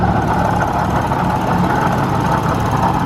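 A car engine idles steadily at close range, a constant mid-pitched hum with a faint ticking and a small odd noise mixed in, and no one speaks.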